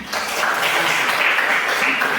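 Steady applause from a church congregation, continuous and fairly loud throughout with no pauses, a faint murmur of voices mixed in.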